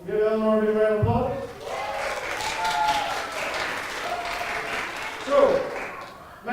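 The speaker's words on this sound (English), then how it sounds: "Come on up, give a round of applause." Audience applause and cheering at a children's church VBS magic show, a broad sustained wash of clapping that fills the room for several seconds, with voices mixed in.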